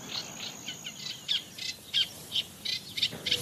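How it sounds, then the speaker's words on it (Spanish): A Eurasian reed warbler sings from a reed bed, a chattering string of short, scratchy repeated notes at moderate distance, rising in intensity over a faint hiss. "Es un carricero común."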